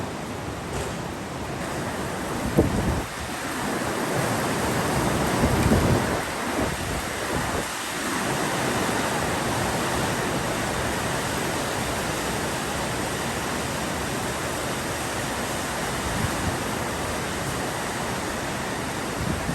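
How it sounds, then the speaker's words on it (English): Heavy rain pours steadily onto a farm, a dense, loud, unbroken hiss that fills the whole stretch with no voices. "It's raining so hard you can't see back there anymore."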